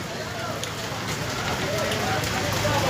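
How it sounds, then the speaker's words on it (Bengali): Heavy rain pours down outdoors as a steady, loud broadband wash across the clip, with faint voices and street sounds mixed underneath. "দেখো বহু জোরে বৃষ্টি চলে এসেছে"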